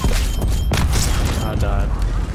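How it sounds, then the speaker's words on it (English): Hellstorm killstreak explosions in Call of Duty roar loud and dense, with rumbling booms and crackling blasts layered under an excited voice talking. "Oh, we got the Hellstorm again."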